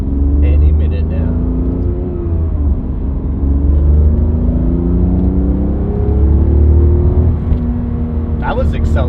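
The engine of a Ferrari 575M with damaged manifolds and extra catalytic converters pulls hard under acceleration, a loud, rising growl with clear gear-driven sweeps, heard from inside the car as people talk over it.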